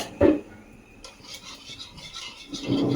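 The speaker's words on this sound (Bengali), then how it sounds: "তখন এটাকে আমি দু মিনিটের মতন ভালো করে নাড়াচাড়া করব" Malai being stirred with sugar in a pan, a short, close scrape of a spoon against metal, then soft rubbing and swishing over about three seconds, with no talk.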